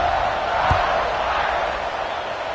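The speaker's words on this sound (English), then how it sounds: "this crowd is feeling themselves after that last drive" A large football stadium crowd at a Texas A&M versus Notre Dame game roars in a dense, sustained wash before kickoff, with one dull thump early on and the noise easing slightly toward the end.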